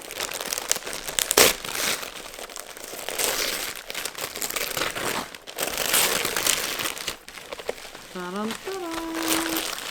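A wrapped gift from an advent calendar is unwrapped, its paper crinkling, crumpling and tearing almost continuously, close and loud, while a person talks over it and a short electronic chime sounds near the end.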